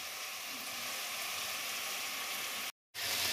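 Mutton and pointed gourd fry in a pan with a loud, steady sizzle and hiss as water is poured in, broken by a brief cut near the end before the sizzling returns.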